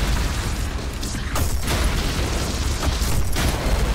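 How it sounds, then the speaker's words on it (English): Enemies blowing up in ULTRAKILL, a run of loud, dense bursts and booms over constant noisy game audio, with two sharper blasts standing out midway and near the end. "Oh, wait, these guys explode."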